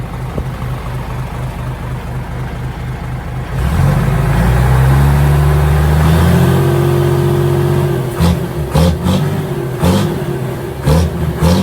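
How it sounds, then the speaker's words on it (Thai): A Hino J08C truck engine idles with a steady chug, then revs up into a loud, sustained roar and settles into an uneven throb broken by sharp bursts. "เดี๋ยวเรามาเบิ้ลให้ฟังเสียงเครื่องยนต์ของ JO8 ของคันนี้กันบ้างนะคะ"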